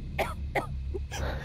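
A video game character coughs in the murder-detective game Jack the Ripper, three short raspy coughs in quick succession, faint and close, over a low background hum.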